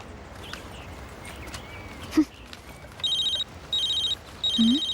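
A phone with no SIM card inserted rings in three short, evenly spaced electronic bursts over quiet room background, with no talking.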